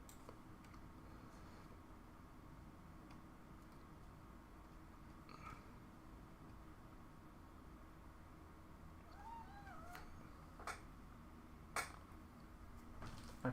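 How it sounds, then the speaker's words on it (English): A pet cat meows softly a few times late on, faint and close, over a steady room hum with occasional light clicks like keyboard typing. "My cat is mewing again."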